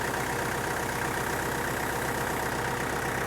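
Tractor engine idling nearby in a steady, continuous low rumble with a regular mechanical pulse, loud and alone throughout.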